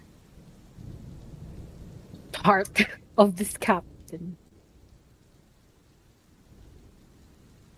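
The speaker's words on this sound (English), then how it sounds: "rain hitting puddles on the ground" Rain and thunder effect for a fantasy tabletop role-playing game: a steady wash of rain with low rumbling runs throughout, while a voice narrates over it in the middle.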